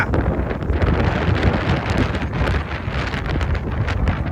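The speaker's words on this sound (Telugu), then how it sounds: "భయంకరమైన గాలి వస్తుంది" Strong stormy wind roars steadily in an open, desert-like spot ahead of rain, gusting against the microphone with a constant broadband rush and no voices.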